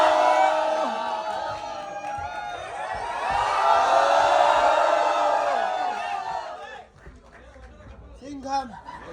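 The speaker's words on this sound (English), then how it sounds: "Let's give a loud applause for Mr." A crowd at a special fan screening of Singham Again, with Ajay Devgn and Rohit Shetty present, cheers, whoops and shouts continuously in a dense roar that swells midway and then thins out into scattered voices.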